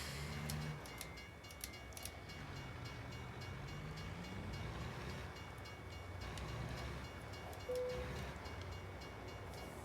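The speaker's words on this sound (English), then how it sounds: "Train coming." Train rumbling past in American Truck Simulator's Colorado map, a steady low roar with rail clatter throughout and a brief horn-like tone near the end, heard from the truck cab.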